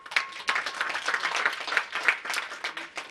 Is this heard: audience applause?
yes